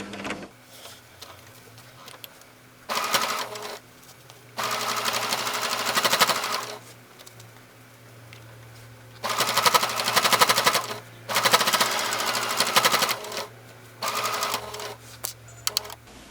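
A sewing machine stitching in a zip runs in several bursts of fast, even whirring, a few seconds each, separated by quiet pauses with a low steady hum underneath.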